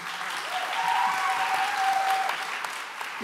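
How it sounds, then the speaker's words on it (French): Audience applause for guests on a French talk show about antiracist media, steady and moderately loud clapping that holds throughout, with a faint sustained tone running beneath it for a while. "On peut les applaudir, bien sûr"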